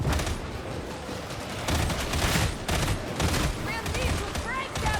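Rapid gunfire in the Warhammer 40K Darktide video game, a continuous dense fusillade of shots mixed with game effects, steady and close for the whole stretch, with voices shouting over it.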